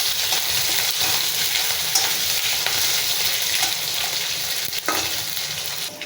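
Dried fish, washed in hot water, fries in a pan with a dense, continuous sizzle, broken by occasional scrapes and taps as it is stirred, close and steady, with no speech.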